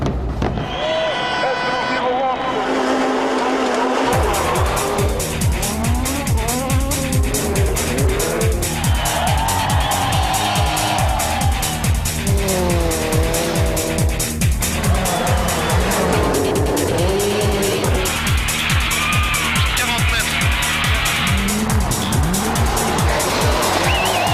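Rally cars racing on a stage at the 1998 WRC Rally Portugal, loud engines revving and shifting continuously with rising and falling pitch, under a commentator's voice.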